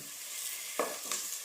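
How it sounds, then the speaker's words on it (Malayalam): Rice is dry-roasted and stirred in a pan for ghee rice, with a soft steady sizzle broken by three short scraping stirs. The sound is close and moderately quiet, and no one speaks. "അതിലേക്ക് നമ്മൾ എടുത്തു വെച്ചിരിക്കുന്ന അരി ഒന്നിട്ട്"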